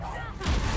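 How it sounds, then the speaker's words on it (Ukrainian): A burst of gunfire and impacts erupts in the Hogwarts Legacy game on PS5, a loud booming blast swelling over a steady hum of game sound. "Хто ще стріляє?"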